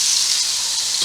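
Venison mince browning in a pan gives a steady, bright sizzle and hiss with faint crackles that does not let up.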